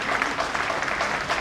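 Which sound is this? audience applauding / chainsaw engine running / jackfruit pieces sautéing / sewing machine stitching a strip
audience applauding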